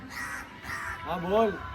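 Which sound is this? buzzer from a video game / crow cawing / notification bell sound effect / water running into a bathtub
crow cawing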